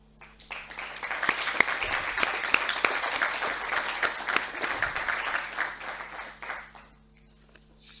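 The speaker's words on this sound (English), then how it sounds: "let's give a big applause to the inspiring man" Audience applause at a university opening ceremony, a dense spread of clapping that swells after a moment, holds steady for several seconds, then fades out near the end.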